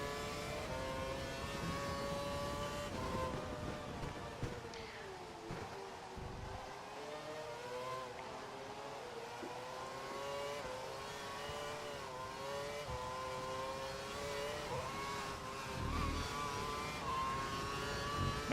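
A race car engine at Shanghai holds a steady, loud throttle during the race, its pitch rising and falling through gear changes, with a faint siren-like whine layered over the continuous roar.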